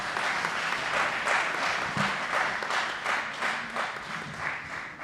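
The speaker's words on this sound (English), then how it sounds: "Another round of applause for him." Steady audience applause filling a hall at an afternoon session of a university bicentenary event honoring Cardinal Lavigerie, dense and continuous for the whole stretch.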